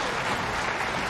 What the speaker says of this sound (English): He gets some applause